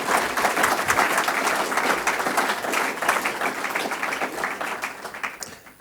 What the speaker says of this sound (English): Can we please have a round of applause for all the new Safety Charter signatories?